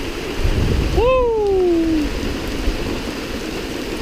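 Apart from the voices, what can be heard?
thunderstorm with heavy rain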